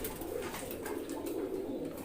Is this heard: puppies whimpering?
no